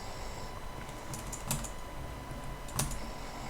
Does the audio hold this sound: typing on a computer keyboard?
yes